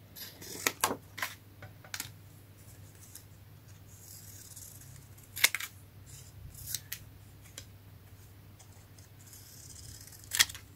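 Scissors cutting scrap paper for cards, a series of sharp close snips spaced irregularly over a low steady background hum, with no talk.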